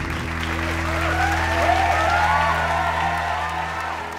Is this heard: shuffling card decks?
no